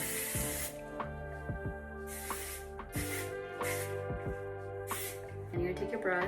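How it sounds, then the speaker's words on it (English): Hairspray hisses from a can over a whole head of wavy hair in several bursts of varying length, close and loud, over soft background music with no talking. "now what you're gonna do is you're gonna hairspray your whole head."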